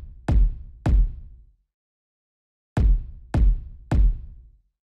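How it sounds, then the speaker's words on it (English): Layered kick drum sample at 157 BPM, five deep punchy thumps with a tight click on top, two close together, a gap, then three more in quick succession, dry and isolated. "the first sound I have for you is the kick,"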